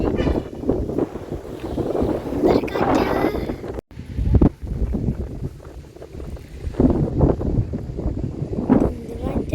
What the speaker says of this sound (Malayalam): നല്ല കാറ്റൊക്കെ ഉണ്ട്.